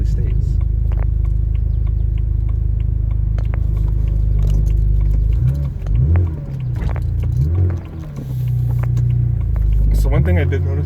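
A 2006 BMW 325i running with its muffler deleted: a steady deep idle growl, close and loud, rising into a few revs and then settling again, while a person talks over it.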